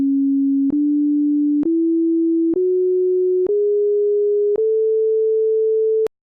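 A musical scale played as pure sine tones: seven steady, clean tones stepping upward one after another with small clicks at each change, loud and alone.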